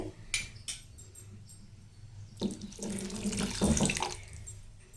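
Water runs from a tap into a pot, a steady splashing stream that swells louder midway, with a few clinks and knocks before it starts.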